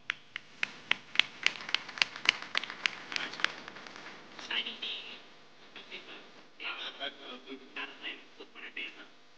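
Scattered claps from a press-conference audience greeting karate fighters make up a brief, moderately near round of applause, which thins out as murmured talk takes over.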